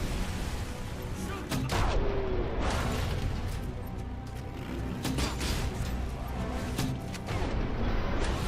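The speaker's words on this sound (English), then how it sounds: "This grenade launcher sucks." Booming grenade launcher blasts and rattling gunfire from a Robocop video game, continuous and dense, with repeated loud impacts over a steady roar of combat.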